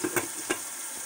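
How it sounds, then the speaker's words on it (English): Ground beef sizzles in a pan on the stove, a steady soft crackle with a few brief scraping stirs near the start, close and moderately quiet. "I'm cooking ground beef right now."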